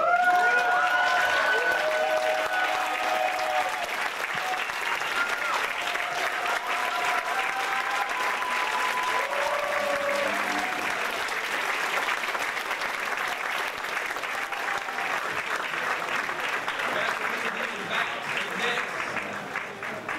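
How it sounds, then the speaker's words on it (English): A large audience gives a standing ovation, sustained dense applause and crowd noise lasting twenty seconds with a voice briefly rising over the clapping near the start. "ask that everybody give a standing ovation for a personal hero of mine, Brother Wanzu"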